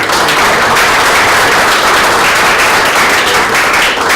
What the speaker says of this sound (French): Les gens peuvent les applaudir.